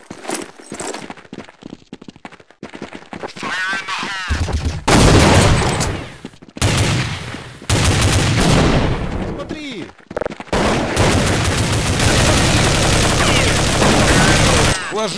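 Gunfire in Counter-Strike 1.6, loud bursts of automatic and single shots in rapid succession with brief gaps, dense and close throughout.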